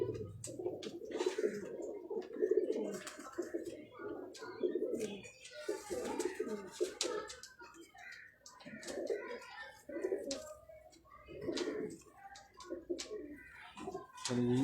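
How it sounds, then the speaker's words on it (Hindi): Feroz Puri pigeons coo close by in continuous, overlapping, throaty calls with a soft rolling rhythm that lasts throughout. "तो ये कुछ कबूतर थे"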